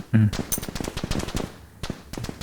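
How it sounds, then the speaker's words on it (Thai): Rapid automatic gunfire from the Army Commander video game crackles in dense, repeated bursts, fairly loud, with a voice speaking briefly near the start. "โอ้ยิงโคตรแรง"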